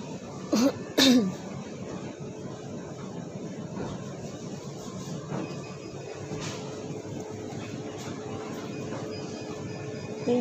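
Two sharp coughs in quick succession near the start, followed by quiet background hum with faint shuffling.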